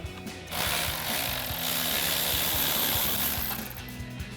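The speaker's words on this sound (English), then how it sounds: "So we've got our 15 mil socket on our ratchet." A ratchet with a 15 mm socket loosening exhaust hanger hardware on a 2019-2024 Silverado or Sierra 1500: a fast string of close, sharp clicking pawl ticks, steady and fairly quiet, with no talking.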